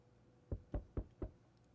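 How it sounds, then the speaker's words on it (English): Four sharp knocks on a door, evenly spaced about a quarter second apart, loud and close in a quiet room with no talking. "Knock, knock, knock, knock."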